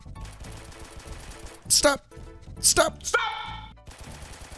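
Gunfire in a close-quarters Roblox first-person shooter game: two sharp, loud bursts of shots, then a ringing metallic shot, over a steady low game background with a voice talking.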